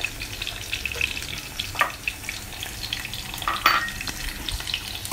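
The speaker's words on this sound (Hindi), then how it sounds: "इसे हम फ्राई करेंगे थोड़ी देर के लिए।" Sliced garlic and curry leaves fry in about four tablespoons of hot oil, a steady, close sizzle with occasional soft stirring scrapes and no talk.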